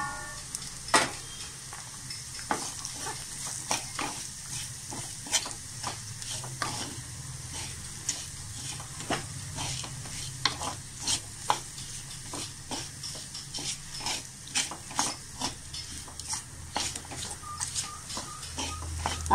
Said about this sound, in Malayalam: പാവയ്ക്ക നമുക്ക് കുറച്ച് നേരം വഴറ്റേണ്ടതുണ്ട്.